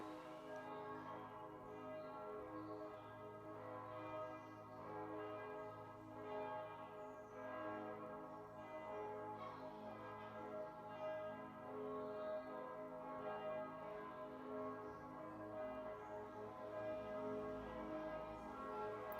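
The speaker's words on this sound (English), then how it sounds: "enjoy the church bells" Church bells ring in the morning, heard faintly from some distance with sustained, overlapping tones and soft repeated strikes. They carry on steadily throughout without any voices.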